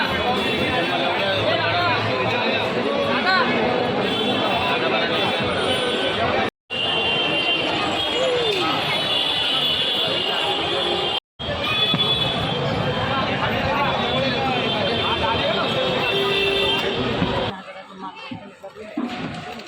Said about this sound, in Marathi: फटाके घेण्यासाठी गर्दी तुम्हाला दाखवतो